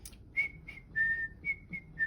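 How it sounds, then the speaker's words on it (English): A person whistles a short run of clear, steady notes, six in quick succession with one longer held tone in the middle, fairly soft and alone against a quiet room. "I can whistle"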